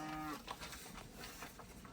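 Cattle moo on a winter farm during fencing work, a couple of low drawn-out calls at moderate distance over faint outdoor background, with no talk.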